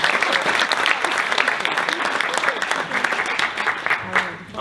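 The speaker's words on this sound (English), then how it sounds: "let's give Amanda and Angela one more round of applause" A room of people applauding two presenters at an education technology event, a steady burst of clapping that holds strong and swells again at the end.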